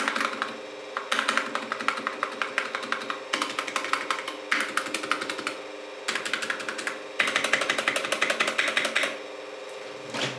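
Typing on an Anne Pro 2 Bluetooth 60% mechanical keyboard with Gateron Red switches, rapid bursts of close, light clacking keystrokes separated by brief pauses, over a low steady background hum.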